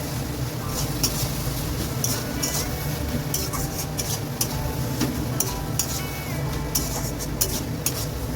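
Spices with chili and turmeric powder being sautéed in a pan, a steady close sizzle with frequent scraping and clinks of a stirring spoon, while someone speaks over it.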